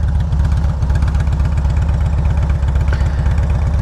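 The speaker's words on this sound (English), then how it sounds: "It's got the 96 cubic inch V-twin with the 6-speed." A Harley-Davidson Road King Classic's 96 cubic inch V-twin with Vance and Hines slip-on mufflers idles with a loud, deep, lumpy rhythmic potato-like thump, close and steady throughout.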